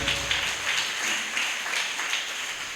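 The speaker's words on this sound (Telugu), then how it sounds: "చప్పట్లు కొట్టి దేవుని నామాన్ని కనపరుద్దాం." A church congregation claps together in a steady, dense stream of applause that fills the room evenly from start to finish.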